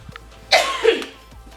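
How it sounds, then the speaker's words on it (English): A single cough indoors in a dining room, from a person with a cold, one loud, close burst of about half a second that fades quickly, with no talking. "excuse me coughing"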